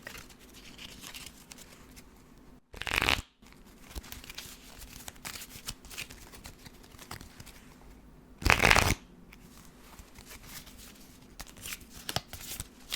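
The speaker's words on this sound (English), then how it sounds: "do some shuffling really quick" Two short, crisp bursts of a deck of cards being riffle-shuffled stand out against a quiet room tone, each lasting under a second and spaced several seconds apart.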